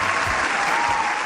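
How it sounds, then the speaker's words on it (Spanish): Studio audience applause welcoming a guest on a Spanish-language talk show, a dense steady wash of clapping at an even level through the whole short stretch, with no voices standing out. "Quiero que le reciban con un fuerte aplauso a él"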